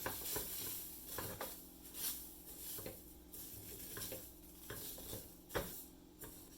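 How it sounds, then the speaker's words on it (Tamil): Rice and moong dal dry-roasting in a hot pan, stirred with repeated faint scrapes and ticking grain sounds at a quiet level. No one speaks. "அரிசியும் பருப்பும் நல்லா வாசம் வர வரைக்கும் வறுத்துடலாம்."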